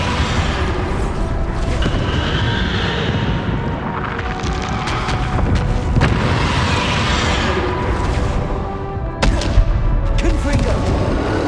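Repeated Bombarda spell explosions in Hogwarts Legacy rumble and crack in a loud, continuous barrage, with sharp bursts punching through, one hard hit standing out near the end, and a voice heard among the noise.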